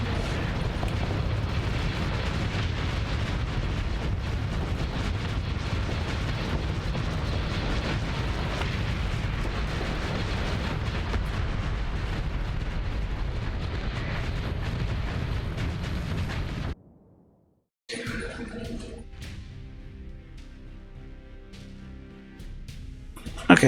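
Missiles exploding against a ship in Starsector: a long, dense roar of rumbling detonations and battle noise that stays loud for about seventeen seconds, cuts out briefly, then gives way to quieter mechanical sounds and a final pop.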